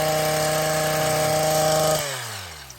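Stihl HS 82 T gas hedge trimmer running loud and steady with a two-stroke engine drone as its blades cut through weeds, then the engine winds down near the end.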